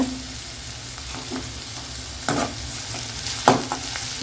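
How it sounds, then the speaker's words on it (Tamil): Onions sautéing in oil for a spicy mushroom gravy, a steady close sizzle with a couple of louder spoon scrapes against the pan, no voices. "இது வதங்கட்டும் வெங்காயம்"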